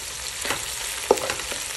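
Onions frying in a pan, a short burst of steady sizzle with a few stirring scrapes and one sharper clack, close and moderately loud.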